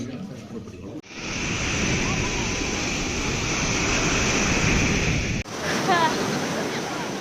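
Sea waves breaking on the shore at Puri beach, a broad, steady wash of surf with wind that swells loudly after a brief opening, holds for several seconds and then drops away, with faint voices and bird-like chirps near the end.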